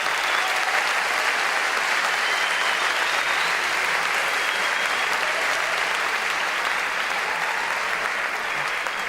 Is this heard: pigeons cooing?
no